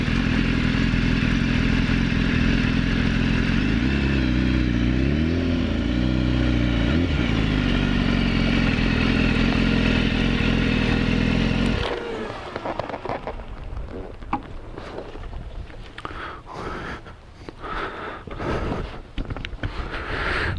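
A 2015 BMW S1000RR sportbike on a test ride, engine droning loud and steady with rising and falling pitch for about twelve seconds before the tone cuts off into rough wind buffeting and clatter.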